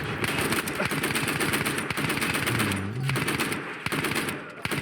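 Rapid automatic gunfire in the multiplayer shooter Battlefield 1 rattles on almost without pause, sharp repeated bursts with a few heavier isolated shots, loud and close, with a player's voice briefly audible underneath.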